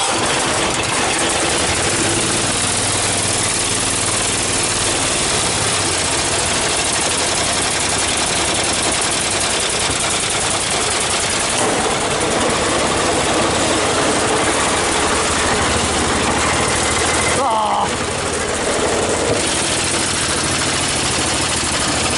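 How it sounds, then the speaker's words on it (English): A 208 engine running at the Dover Steam Show, a loud, rough, continuous mechanical roar that holds steady throughout, with a brief dip near the end. "the 208's ignition switch is kind of weird, so let's go ahead and try firing this one up"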